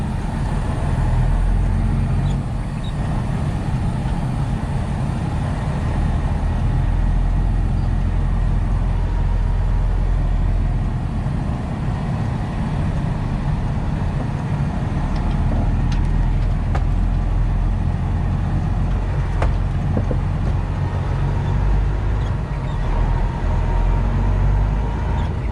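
A semi truck's diesel engine drones steadily from inside the cab as the rig slowly reverses to make a turn, a loud continuous low rumble with faint rattles and no talk.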